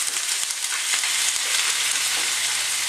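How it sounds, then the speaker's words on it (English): Meat sliding into hot oil in a pan on high heat sets off a dense, steady sizzle that holds close and loud throughout, with faint crackles and no voices. "So I got the Oil on high to hot. I'm just going to slide the meat in like this."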